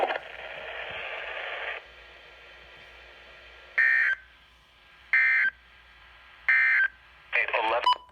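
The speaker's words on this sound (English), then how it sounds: "this has been a weekly test of the NOAA All Hazards Public Warning Alarm System" NOAA weather radio weekly emergency alert system test: a long steady two-tone alarm, then a series of loud, short, evenly spaced digital data bursts with quiet gaps between, ending in a busier burst.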